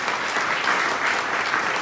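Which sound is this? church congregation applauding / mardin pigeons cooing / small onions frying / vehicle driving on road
church congregation applauding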